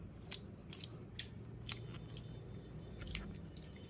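Someone eats fried fish up close, with quiet crisp bites and soft chewing crunches in an irregular rhythm over a low background hum.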